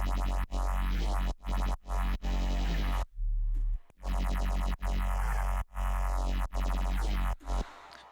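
Phase bass built in Ableton with frequency shifters, heard as a series of loud, dense bass notes with sweeping, moving phase tones, chopped by short gaps and one longer break midway, no voices.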